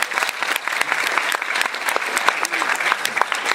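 Audience applause at a live conference, a dense steady patter of clapping from a crowd, close and fairly loud throughout the short stretch.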